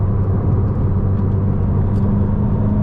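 Ferrari SF90 hybrid supercar driving in qualifying mode, heard from the cabin as a loud, continuous low engine and road rumble, steady throughout and without speech.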